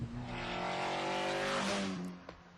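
A TVR Cerbera sports car engine revs hard and loud, a sustained harmonic roar that holds steady, then drops away near the end with a brief blip.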